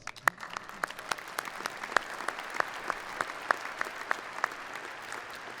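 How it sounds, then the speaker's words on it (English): Applause from a crowd at a high school graduation ceremony, scattered distinct claps standing out over a soft, distant wash of clapping, fairly faint and steady throughout. "Let's give him a small round of applause."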